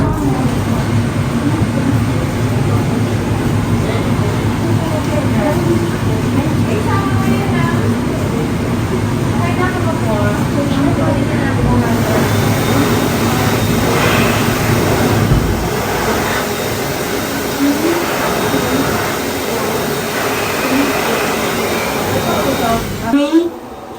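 Air shower at a chocolate factory blowing a steady, loud rush of air for most of the stretch before cutting off near the end, with faint voices and background noise underneath.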